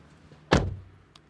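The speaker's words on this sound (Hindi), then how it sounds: "ऐसा सुनाई देगा आपको इस गाड़ी के दरवाजे का थड।" The door of a 2022 Maruti Suzuki Alto K10 swings shut with a single solid thud, close and fairly loud, then fades quickly into quiet.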